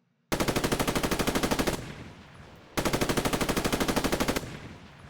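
A machine gun in a Roblox military sim fires two long, rapid, evenly spaced bursts, each about a second and a half of loud rattling shots separated by a short pause, with no voices.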